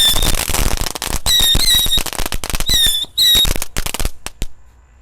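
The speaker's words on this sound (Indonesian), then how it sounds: "Selanjutnya yang kita nyalakan di sini ada mercon tikusan pratek guys." Six mercon tikusan firecrackers are lit together and go off in a loud, dense crackle of bangs, with shrill whistling squeals rising through it before the noise breaks off abruptly.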